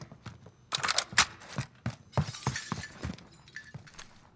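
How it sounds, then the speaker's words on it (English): Glass shatters nearby in a first-person shooter, heard as sharp crashing bursts mixed with scattered footstep-like thuds and clinks. The sounds are close and irregular, and there is no speech. "Somebody broke glass close."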